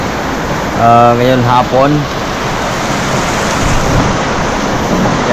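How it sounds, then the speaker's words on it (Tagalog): Rain falls steadily on an afternoon outside a tricycle, a broad even wash of noise, while someone talks over it briefly near the start. "Ating nakikita ay umuulan."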